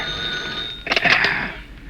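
A telephone rings in an old radio drama with a shrill, rapid bell trill. The ringing is loud and close and lasts about a second over a faint steady tone.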